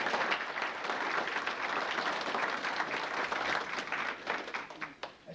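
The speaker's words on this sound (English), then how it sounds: "I think we should give a round of applause for the band." An outdoor audience at a Pearl Harbor memorial ceremony in Port Jervis, New York, applauds the band with moderately faint, steady clapping that thins out toward the end.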